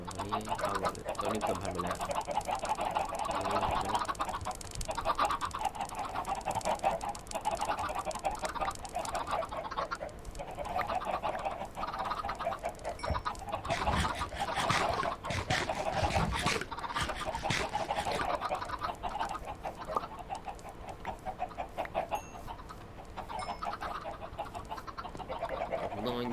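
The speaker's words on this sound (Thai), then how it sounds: "โอ้โหไก่นี่ปล่อยออกมาได้เยอะเต็มทุ่งเลย" A dense crowd of Minecraft chickens clucks continuously, filling a field in a hardcore survival world, with someone talking over the overlapping calls throughout.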